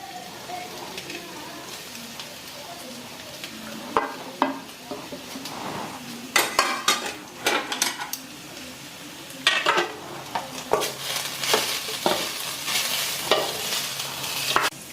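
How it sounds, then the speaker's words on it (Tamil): Fried egg goes into a pan of cut chapati noodles and is stirred through, with low sizzling under irregular clanks and scrapes of a spoon against the pan that grow busier and louder toward the end. "இப்போ வந்து நான் பொறிச்சு வச்ச முட்டையை இதில் நான் போடுறேன்"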